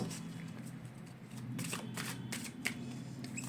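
Cards being drawn and shuffled from a deck during a Sai Baba message card reading: soft, close papery flicks and slides at low volume, with no one speaking.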